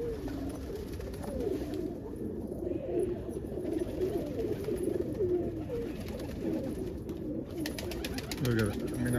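Crested almond pigeon cooing amid other birds in a snowy outdoor loft, with a steady low murmur of calls and rustling throughout, moderately close.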